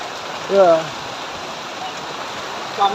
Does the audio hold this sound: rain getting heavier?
yes